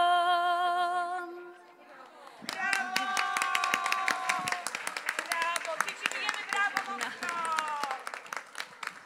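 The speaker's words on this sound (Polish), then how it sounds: "Brawa to się należą właśnie tym wszystkim dzieciom." After a brief sung or played melody, an audience breaks into lively clapping for preschool children performing at a tribute event; the sharp claps run on for several seconds with tonal voices or music carrying over them.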